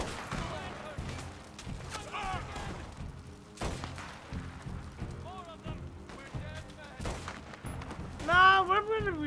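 Gunfire in Red Dead Redemption 2, a sustained volley of close, loud shots with several sharp booms, heard under excited talking throughout.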